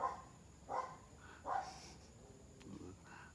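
Dogs barking nearby, three or four separate short barks spaced about a second apart, moderately loud against a quiet background hiss.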